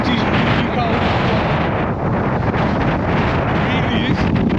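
Strong, cold wind in Scotland buffets the microphone in a loud, continuous roar with no pauses.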